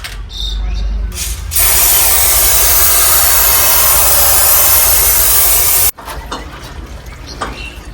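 A sustained hiss of spray is applied to a bike chain, loud and steady for several seconds before cutting off abruptly, with faint background noise around it.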